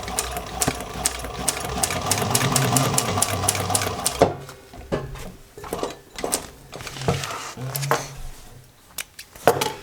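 An upholstery sewing machine stitching through sew foam, a fast mechanical rattle running steadily for several seconds before breaking into short, uneven bursts of stitching.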